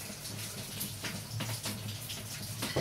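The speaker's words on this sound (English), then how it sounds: "whatever the liquid is left that we made with the mascarpone cheese and cream and custard, just pour over this" Liquid mascarpone, cream and custard mixture is poured over a biscuit layer in a dish, a soft, faint trickle and splash with a few gentle plops.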